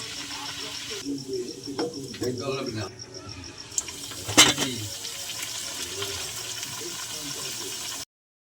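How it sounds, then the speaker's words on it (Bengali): Luchi puffing as they fry one by one in hot oil, with a steady bright sizzle throughout and a brief louder crackling burst partway through. "লুচিগুলো এক একে ভেজে নেব সবাই ফুলছে"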